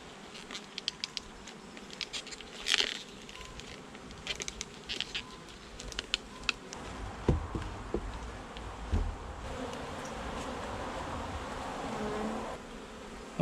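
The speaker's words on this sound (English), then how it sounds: "A lot of bees here." Honey bees buzz around an open hive during an apiary inspection in May, a steady close swarm drone with scattered ticks and handling knocks throughout.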